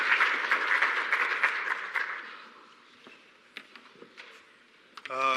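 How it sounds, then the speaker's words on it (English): Audience applause at a climate resilience symposium as a speaker walks to the stage, a full round of clapping that thins out and fades into scattered claps, then a voice begins at the end. "A round of applause as Farai makes his way to stage"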